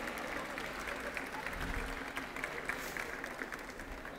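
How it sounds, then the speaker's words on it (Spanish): Audience applause at an architecture graduates' 25th anniversary ceremony, steady clapping from a crowd heard at moderate distance, fairly quiet, continuing throughout. "pido un fuerte aplauso para Federico Berbejillo"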